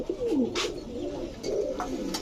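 Pigeons coo close by in soft, throaty rolling calls that repeat almost continuously over a light background hum, with no talking.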